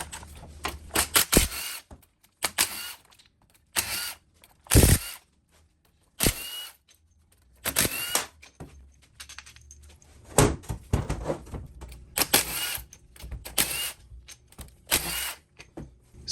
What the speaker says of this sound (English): we're going to take out all 9 of these bolts that hold the cases together. I'm going to use a 1/2 inch drive, 14mm wobble socket